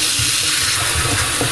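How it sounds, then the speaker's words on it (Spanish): Water gurgling and rushing through a household drain pipe after cleaning, a steady close wash of sloshing flow with low bubbling pulses throughout. "Oís todavía el gorgoteo, todavía queda algo"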